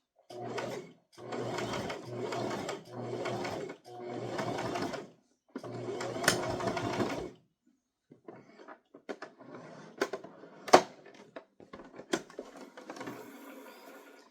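A sewing machine back stitching a toddler crossbody purse runs in several close, steady bursts with short pauses between them, followed by quieter handling clicks and rustles.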